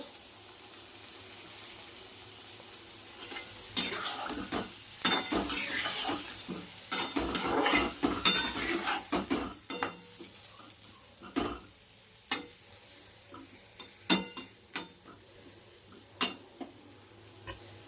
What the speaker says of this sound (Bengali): তো বন্ধুরা এবার একটু জল দেবো অল্প করে।